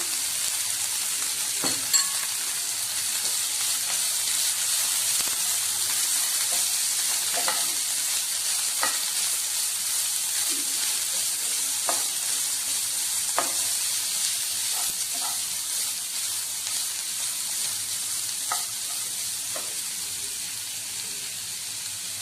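Grated coconut sautéing in a pan with moringa pulav spices: a continuous close hiss and sizzle, with repeated light scrapes and clicks of a spoon stirring against the pan.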